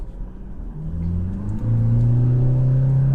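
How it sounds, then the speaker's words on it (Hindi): Toyota Fortuner 2021 facelift with automatic gearbox accelerating at full throttle, the engine note rising in pitch and swelling louder into a sustained droning rev, heard from inside the car with no talk. "Like if I floor the throttle right now"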